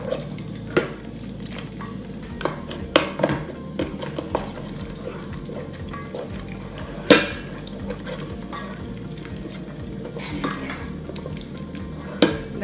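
A spoon stirs curry powder, garam masala, paprika and a beef cube in a sizzling pot for bean curry, with soft frying hiss under irregular scrapes and metallic clinks against the pot.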